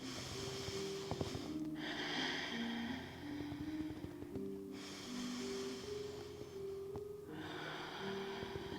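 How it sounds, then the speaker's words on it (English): Slow, deep breaths during a yoga hips-and-shoulders stretch, each long airy inhale or exhale swelling and fading in turn over soft, steady background music. "Take 3 deep breaths."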